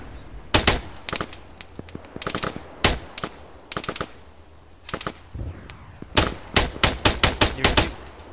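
Gunfire in the military video game Arma: sharp single shots and short rapid bursts at irregular intervals, loud and close, ending in a fast volley near the end, over a faint background with no talking.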